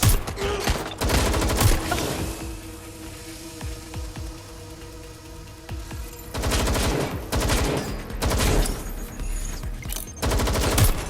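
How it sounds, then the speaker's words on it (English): Bursts of gunfire from the video game Watch Dogs: Legion, with loud clusters of rapid shots opening the clip, a quieter stretch in the middle, then further heavy volleys near the end. "Shots fired!"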